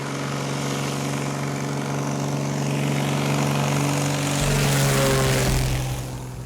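A propeller plane drones steadily close by in a remote outback setting, its engine hum swelling louder toward the end as the pitch shifts, with no voices.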